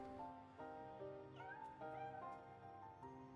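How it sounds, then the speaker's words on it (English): Cat meowing in Final Fantasy 14, a few short, rising mews over continuous game music, near and fairly clear. "Oh, the little cat."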